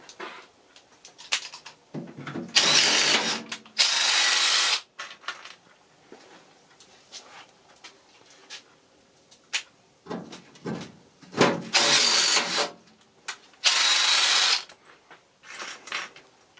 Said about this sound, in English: you can get to use the little fancy rivet gun, which does make rivets a little bit easier to put in